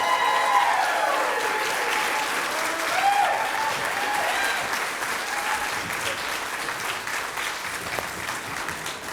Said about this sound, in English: So let's go ahead and let's give Mr. Raymond a big warm applause.